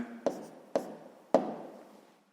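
Pen strokes write down a maths answer in three sharp taps spaced about half a second apart, each followed by a short scratchy trail, close and quiet.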